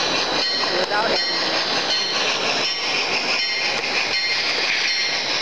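A mine train shunts railroad cars at the Sallie #2 Silver Mine, giving a steady, loud rolling rumble with a high metallic squeal throughout and faint rhythmic clicks.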